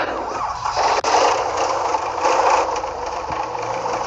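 An MTZ-82 tractor engine runs steadily at close range, a continuous loud diesel drone with a brief dip near the one-second mark, with no talk over it.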